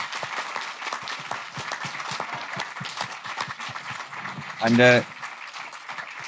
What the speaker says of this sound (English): Round of applause, boss.